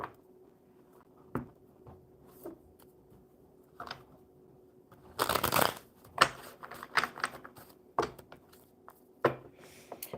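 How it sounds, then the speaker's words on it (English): A deck of playing cards is shuffled by hand at a table: scattered soft taps and handling, then a dense riffling burst midway and a few quicker crisp flutters, close and fairly quiet with no talking. "We'll get these shuffled up real good."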